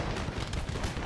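Musket gunfire on soldiers in the Empire: Total War video game, a dense rumbling crackle of overlapping shots heard fairly quietly as continuous battle noise.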